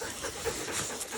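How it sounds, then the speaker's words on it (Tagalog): A dog pants softly in quick, uneven breaths close by, faint and brief with no voices. "Itong aso nila napaka-sweet."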